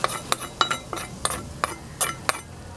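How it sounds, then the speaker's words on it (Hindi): Several sharp clinks of a metal spoon against a pan, spaced irregularly, with soft stirring and scraping between them as tempering is mixed into poha for chivda. "इसमें हम ये तड़का लगाएंगे"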